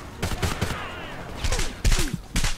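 Bursts of automatic gunfire from the first-person shooter video game Homefront rattle in several loud, close volleys separated by short gaps, with echoing battlefield noise in between.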